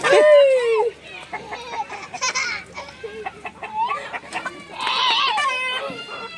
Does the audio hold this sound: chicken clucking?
yes